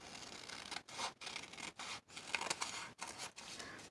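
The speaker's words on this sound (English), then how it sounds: "I'm going to cut just a little bit more on the end right here." Scissors snipping through a paper business envelope for a mini book craft, a series of close crisp cuts in short rhythmic strokes separated by brief pauses, with no talking.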